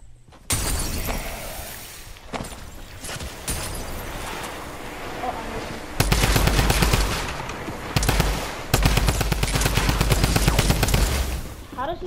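Fortnite drum gun firing in long rapid bursts, loud and close, with explosive crackles and breaking sounds mixed in and voices chatting over the game.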